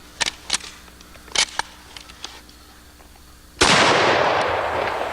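A black powder gun fires a single loud booming shot near the end, with a long decaying roar after a few earlier sharp clicks and knocks of handling.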